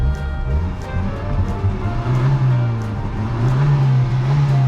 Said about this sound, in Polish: jaki dźwięk silnika. Mało jaka benzynka taki ma.